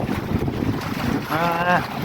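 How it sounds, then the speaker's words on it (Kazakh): A catamaran on a lake at Burabay, with steady wind and water-craft rumble and a brief voice partway through. "Катамаран деген мынау"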